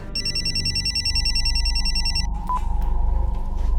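A telephone bell rings in a rapid repeated trill for about two seconds, then stops, leaving a quieter room with a brief tone and low background rumble.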